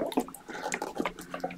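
Water trickles and drips into the small water well of a paint brush set, a close, soft run of splashy drips with light handling noises.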